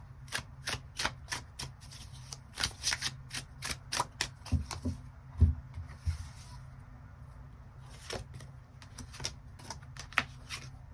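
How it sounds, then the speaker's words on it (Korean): Tarot cards are shuffled by hand in quick riffling flurries of soft close snaps and slaps, irregular bursts spread over several seconds, fairly quiet, with no talk. "추가 카드 뽑아보도록 하겠습니다"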